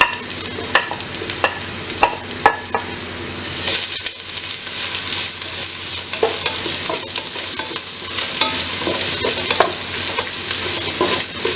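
Crushed garlic sautéing in a pan for a sprouted green gram stir-fry, a loud continuous close sizzle with frequent sharp pops and crackles throughout, no voices.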